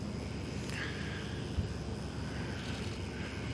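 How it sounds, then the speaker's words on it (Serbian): Drones hover overhead at a Serbian Army live-fire exercise, producing a steady, even whirring hum that holds throughout with faint higher tones, and no talk in between. "Kad bi ove dronove sklonili s vremena na vreme."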